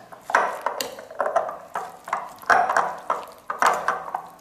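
Rhythmic scraping and clinking of a spoon mixing yogurt, sugar and salt into a coleslaw dressing in a bowl, with about five repeated stirring strokes close up and no talking.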